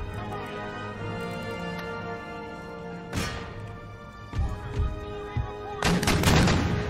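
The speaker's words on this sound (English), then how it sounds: "First volley unleashed." Artillery fires a volley in the video game Empire Total War: several sharp booming shots go off irregularly over a steady background of game music and battle noise.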